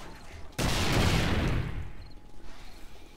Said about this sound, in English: Well, now you get a double explosion.